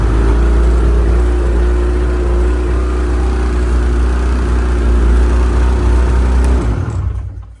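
A 2009 Ski-Doo MXZ Renegade 600 E-TEC snowmobile engine idles close and steady with a constant mechanical drone, then cuts off abruptly near the end.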